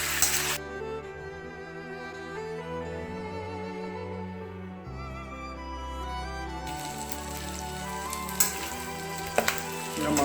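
Pork frying with salt in a pan for an Assamese-style pork dish, giving a steady close sizzle that runs under music throughout.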